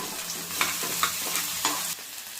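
Onions browned to pink in a pan with tomato and coriander added for egg bhurji, sizzling steadily while a utensil stirs with a few scraping strokes, close and moderately loud, no talk.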